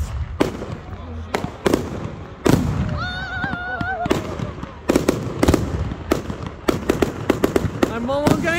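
Fireworks burst over Loch Sport in a rapid series of sharp, booming explosions and crackling pops, some close and loud, with whistling rockets rising between them and excited voices calling out throughout.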